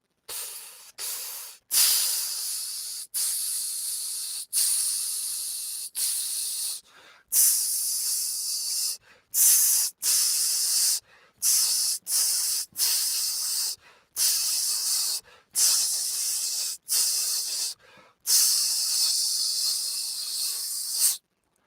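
A wind player's sizzle breathing exercise in 4/4: repeated sharp hissing bursts made with the breath, in rhythmic phrases of varying length separated by short silences, close and loud.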